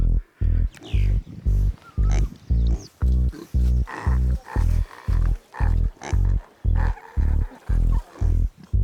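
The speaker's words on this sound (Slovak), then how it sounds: "Prasa pasúce sa pri 1000-ročnom čajovníku." Pigs grazing beside a thousand-year-old tea tree in a Chinese tea-growing area, heard as a steady series of about fifteen loud, rhythmic grunts or calls repeating roughly every half second, close and without talk.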